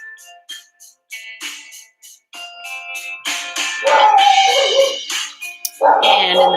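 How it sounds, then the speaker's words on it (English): A pet dog yips, whines and barks in irregular short bursts during a home exercise session, fairly loud and close, with some longer whimpering calls toward the end. "And in the background, you'll hear my lovely dog, Cedar."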